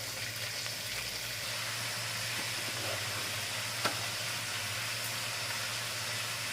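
Chicken liver boils in a bowl of water with salt and turmeric, giving a steady, close hiss and faint bubbling that runs unbroken throughout, with one brief tap near the end and no talking.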